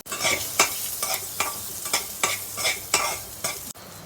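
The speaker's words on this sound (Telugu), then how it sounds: "ఆయిల్తో పాటు వేసిన పోపు దినుసులన్నీ బాగా బ్రౌన్ రంగు వచ్చే వరకు వేపుకోవాలి." Tempering spices with mango pieces, green chillies and curry leaves fry in ghee while being stirred, a steady sizzle broken by about eight regular scraping strokes of the spoon, close and clear without speech.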